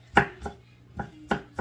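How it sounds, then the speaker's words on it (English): A knife chops garlic on a cutting board in five sharp, uneven knocks spaced across a short stretch, close and distinct against a quiet kitchen background with a faint hum. "Cut it your garlic."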